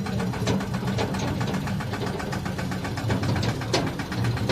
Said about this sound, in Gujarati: ટ્રેક્ટર લઈને જઈએ છીએ અમે